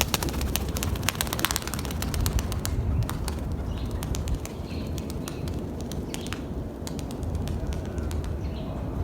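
A Turkish Takla pigeon coos softly and repeatedly, close by, among scattered sharp clicks and light rustling, with no talking.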